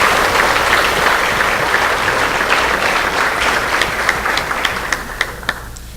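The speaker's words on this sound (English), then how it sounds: "So if we could do another short round of applause for David's Hope and all of the work that they're doing." Audience applause for the David's Hope mental health group at the Step Up AZ 2017 event, a steady wash of many hands clapping that holds for several seconds, then thins out into a few separate, louder claps near the end.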